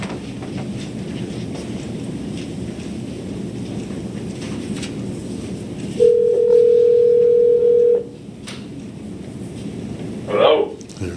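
Telephone dial tone on a call into a school board meeting, a steady single tone lasting about two seconds over faint room noise, followed by a brief chirp near the end.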